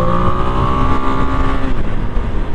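A motorcycle engine revs loud and close while dropping two and then a third gear, a sustained throaty drone with shifting tones and rapid fluttering pulses, no speech.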